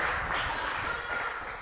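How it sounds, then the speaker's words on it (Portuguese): A church congregation applauds continuously, a dense, steady wash of clapping at moderate level that persists throughout without a break, with faint voices mixed into the crowd noise. "Pode aplaudir ao Senhor também"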